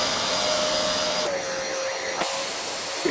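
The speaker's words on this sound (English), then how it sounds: "that was the Vax Dynamo Power Reach, and very powerful it is too" Vax Dynamo Power Reach vacuum cleaner running with its valve open, a loud, steady whooshing suction roar close by with a faint whine, shifting slightly in pitch twice, with no talking.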